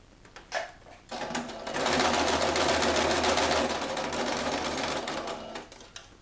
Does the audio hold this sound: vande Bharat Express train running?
no